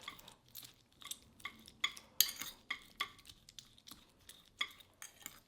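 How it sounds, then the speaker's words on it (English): Thawed blueberries mashed with a fork in a bowl: a run of quiet, close metallic taps and soft squishy scrapes, irregularly spaced, with no talking. "take a fork, mash them up until they're like a puree or like jam pretty much"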